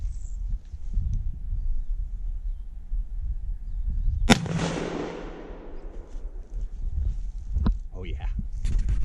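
A single loud Mosin rifle shot fired into a steel safe, a sharp crack with a long decaying ring, heard over steady outdoor background with talking before and after.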